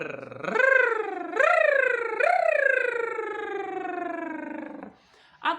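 A single voice mimics a siren, sweeping its pitch up and down in three rising wails before trailing off into a long, steady falling tone.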